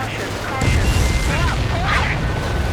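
A rumbling blast rolls out as an enemy transport is destroyed in Ace Combat, a deep sustained boom beneath jet noise and radio chatter, loud and dense for the whole moment.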